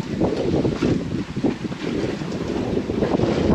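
Strong 25–35 knot wind buffets a sailboat at night off the Bouches de Bonifacio, a loud, steady rushing roar with gusty surges and rumbling microphone buffeting throughout, and no voices.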